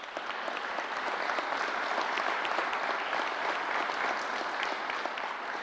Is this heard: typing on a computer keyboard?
no